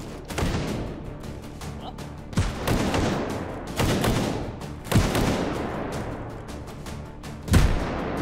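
Grenade blasts in the VR shooter H3VR, several heavy booming explosions at irregular intervals over continuous rumbling gunfire-like noise, loud and close.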